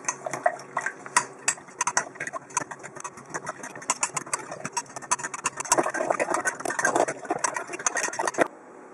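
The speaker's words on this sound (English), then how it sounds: "equal parts red wine vinegar and olive oil. And just kind of mix her up." Red wine vinegar and olive oil dressing being mixed in a container for coleslaw, giving a steady run of close, busy clinks and sloshing taps with no talk, ending abruptly near the close.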